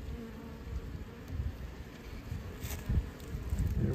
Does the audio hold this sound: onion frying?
no